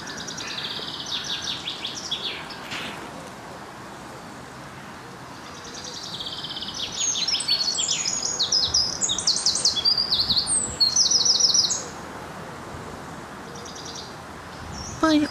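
Wild birds calling around carrion crows outdoors in northern Germany: bursts of chirps and harsh calls come and go over a soft background hiss, louder in the middle and near the end.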